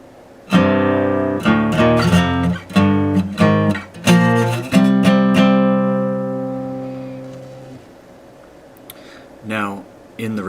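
Guitar strummed in a passage from a song, with sharp rhythmic chord attacks that give way to a long ringing sustained chord fading out, followed by a brief scrape near the end.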